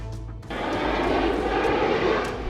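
Indian Air Force fighter jets such as Tejas, Rafale, Mirage and Sukhoi roar overhead during an exercise at Pokhran, the loud engine noise surging in abruptly and holding as a steady, close rush.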